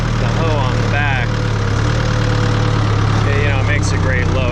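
Backhoe engine idling on a dairy farm, a loud, steady low rumble with a constant hum, while someone talks over it close to the microphone.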